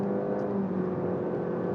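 A 2020 Nissan Versa with a CVT under full throttle gives a steady, droning engine whine with a smooth, unchanging pitch, heard from inside the cabin with no talking.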